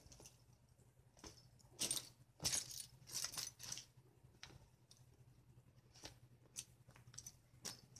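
Keys jangling and clinking in scattered bursts indoors at night, with small taps and rustles between, fairly faint and close, no speech.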